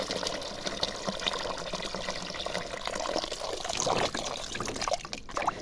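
Cold water poured over cucumbers set aside for pickling in a cellar: a steady, close, continuous splashing and trickling stream that carries on throughout.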